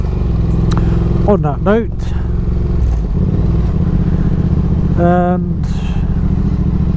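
A motorcycle rides along on a cold, dry day in England with a continuous engine drone and wind rumble, while a rider talks over it in short phrases.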